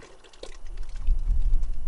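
Thickening agent is poured into water for mixing aircrete, giving a soft liquid splash and trickle that builds into a fuller, steady, low churning pour close by.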